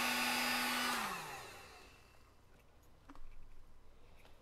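Cheap Harbor Freight heat gun blowing steadily for about a second, shrinking tubing on an Anderson Powerpole housing, then its motor winds down and the airflow fades away, leaving quiet handling clicks.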